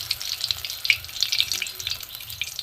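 Egg-coated brinjal rolls fry in hot oil, a close, steady crackle of small sizzling pops scattered throughout, with no voices.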